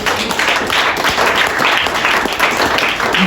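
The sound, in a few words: congregation applauding for Jesus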